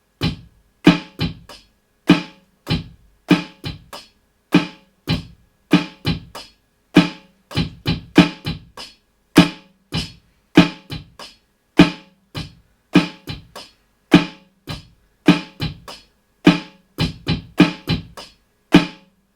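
A drum kit plays a chorus beat, a steady groove with sharp, evenly spaced hits, kick and snare-like thumps alternating in a driving, repetitive pattern, loud and close, no voices.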